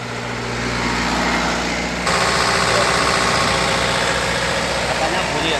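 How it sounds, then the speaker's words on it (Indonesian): A car engine idles steadily, then rises a step in pitch and loudness as it is revved a little during a transmission check, with a continuous close mechanical drone. "Gas kita gedein dikit ya."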